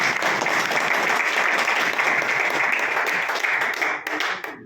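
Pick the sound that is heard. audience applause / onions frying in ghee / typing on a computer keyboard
audience applause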